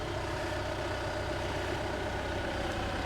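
A tractor engine idles steadily and close, a constant rough low drone with no change in pitch and no voices.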